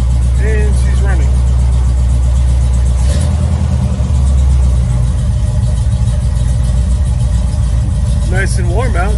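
A car engine idles steadily after starting, a low continuous rumble that stays loud and close throughout, with a brief change in tone partway through and voices speaking over it.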